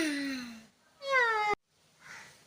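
A cat meows twice, close and clear, a long falling meow followed by a shorter one that cuts off abruptly, then a faint trailing sound.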